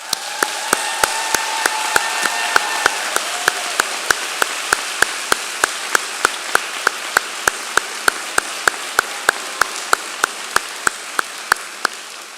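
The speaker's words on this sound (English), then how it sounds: "please stand for one last round of applause from your FAU fans" Sustained applause from a large crowd of FAU fans honoring student athletes at a university commencement ceremony, a dense steady wash of clapping that holds at an even level for the whole stretch with no voices.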